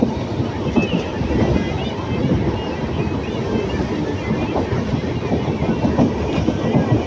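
A passenger train travelling from Salem to Bangalore, heard from on board as a steady close rumble with rhythmic clickety-clack of the wheels and wind noise, continuous throughout.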